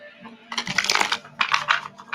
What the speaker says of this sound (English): Shuffle, shuffle, shuffle. Every day I'm shuffling.